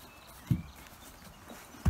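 A two-year-old horse walks nearby, and two separate dull hoof thuds land about a second apart over quiet outdoor ambience. No one talks.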